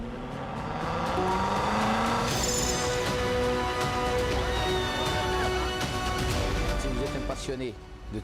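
Racing car engines roar continuously at a live motorsport event, loud and sustained with passing whooshes and a brief tire squeal, while a person talks over the noise.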